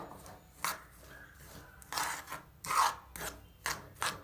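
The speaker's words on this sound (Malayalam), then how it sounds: "നന്നായിട്ട് ഇങ്ങനെ ഇളക്കുക. അത് അലിയുന്ന വരെ ഞങ്ങൾക്ക് ഇളക്കണം." Peanut candy mixture being stirred in a pan until the sugar dissolves, heard as a series of gritty rasping scrapes in irregular strokes, fairly close, with quiet pauses between them.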